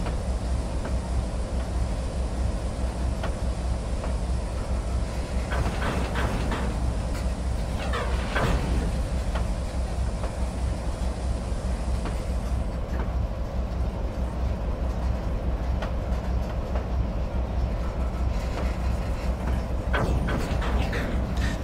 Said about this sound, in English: So you can see the train on the right is still going.